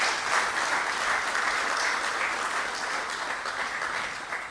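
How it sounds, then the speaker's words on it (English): Audience at a Rotary District 7030 District Governor installation ceremony giving sustained applause, a dense, steady wash of clapping from many hands that fades slightly at the end. "A big applause for immediate past District Governor Sonia."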